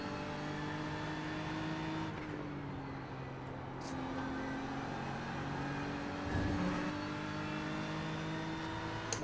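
Simulated GT3 race car on a hot lap at Watkins Glen in the iRacing sim, engine droning steadily with shifting harmonic pitch as it climbs and drops through gears, a brief downshift burst around the middle, no talk.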